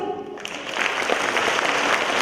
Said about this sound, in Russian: И сейчас настало время дружными аплодисментами поблагодарить всех участников